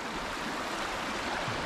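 Clear, ice-cold mountain stream water in Tyrol, Austria, rushing in a steady, dense wash of splashing flow, close by and continuous, with no voices.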